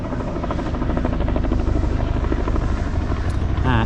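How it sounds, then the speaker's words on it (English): A helicopter spraying power lines in the Appalachians drones throughout with a steady, loud rotor thump, close by and continuous. "It's got a helicopter spraying the power lines."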